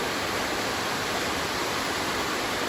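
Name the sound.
waterfall near a creek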